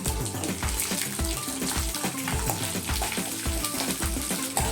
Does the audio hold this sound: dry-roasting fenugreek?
yes